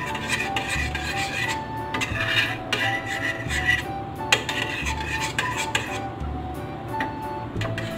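Chicken wings in soy sauce and garlic with cornstarch are stirred in a metal pan or bowl, giving steady scraping and clinking of a utensil against cookware with a few louder knocks, close by and without talk.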